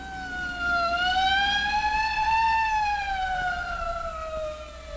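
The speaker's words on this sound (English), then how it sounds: "Hey, a police car." Police car siren wailing loudly and close in a 1957 film scene, a steady rising and falling tone that swells and holds for several seconds with no talk over it.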